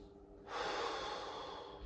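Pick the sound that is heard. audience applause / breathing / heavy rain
breathing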